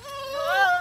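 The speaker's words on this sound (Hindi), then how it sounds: "ये बड़ा बकरा है" A single goat on a goat farm gives one short, wavering bleat, close and fairly loud, rising slightly before it fades.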